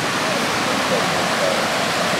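Hunter Brook, flooded after Hurricane Irene, rushing through where land used to be near a destroyed bridge in South Newfane, a loud steady broadband roar of moving water filling the whole stretch without letup.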